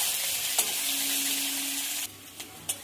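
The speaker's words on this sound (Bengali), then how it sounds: "দেখুন বন্ধুরা, পেঁয়াজটা ভাজা ভাজা হয়ে গেছে।" Chopped onions fry in mustard oil with a continuous close sizzle while a utensil stirs them, and a few sharp scraping clinks stand out before the hiss drops to a quieter crackle near the end.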